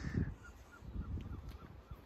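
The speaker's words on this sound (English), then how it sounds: "Seagulls, man, it's just never ending." Faint gull cries in the distance, a few short squawks over low rumbling background noise.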